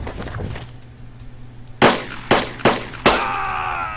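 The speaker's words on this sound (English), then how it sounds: "Yeah, it's one of their light machine guns." A light machine gun in a war video game fires four sharp, loud reports in quick succession, each with a short ringing decay, over a low mechanical hum.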